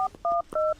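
Three quick telephone keypad tones beep in a short, evenly spaced run as a number is dialed, close and clear with nothing else over them.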